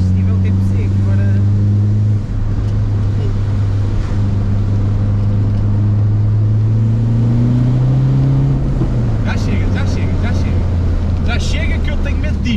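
A tuned Peugeot 206 HDI diesel rated at 300 hp idles and revs loudly up close, its engine note rising steadily and then dropping back, with a few clicks and rattles near the end.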